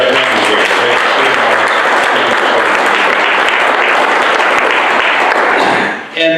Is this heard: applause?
yes